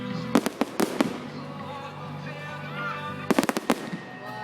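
Fireworks burst in two rapid volleys of sharp bangs with crackle at a Scottish display, separated by a quieter stretch of hiss and crowd murmur.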